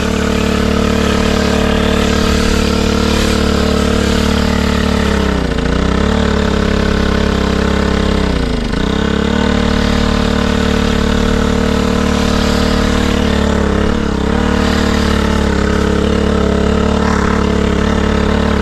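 Motorcycle engine running in questionable condition after long disuse, a loud, close, continuous idle with steady rumble and a few brief dips in revs.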